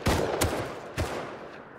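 A burst of video game gunfire: a few sharp shots in quick succession, loud and close, with a rolling echo fading out.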